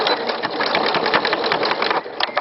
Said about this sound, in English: you're just going to put this under the sewing machine